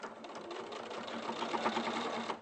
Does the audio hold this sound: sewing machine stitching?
yes